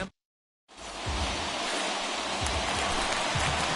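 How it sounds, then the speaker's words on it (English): Steady rain hisses over a baseball stadium, Coors Field in Denver, in a video game, a broad continuous wash after a brief silent gap, with faint low thumps beneath. "Now from a rainy Coors Field in Denver."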